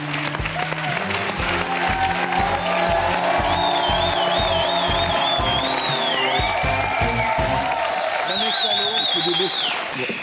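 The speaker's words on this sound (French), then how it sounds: "On applaudit nos complices qui nous rejoignent." A television show audience applauds steadily as guests join the stage, with sustained clapping and cheering under music and a host's voice talking.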